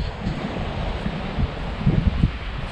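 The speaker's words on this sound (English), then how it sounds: "Do you feel the wind coming behind me? That's offshore, that's from the west." Steady offshore wind blowing from the west at a surf beach, a broad continuous rush with gusty microphone buffeting and faint surf beneath, no talking.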